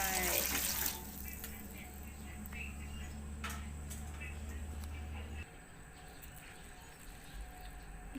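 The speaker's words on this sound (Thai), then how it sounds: "เตมน้ำต้มพริกตอนแรกลงไป" Chili-boiling water poured into a pot of Thai fish curry sauce, a loud splashing pour for about a second at the start before settling into a low, steady kitchen hum.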